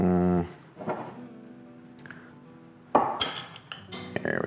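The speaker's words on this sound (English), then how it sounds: "So I'm gonna put some of our cocoa sugar salt mixture in here." A spoon clinks against a glass while a cocoa, sugar and salt mixture is added, giving a few close bright taps and scrapes with a quiet gap between them.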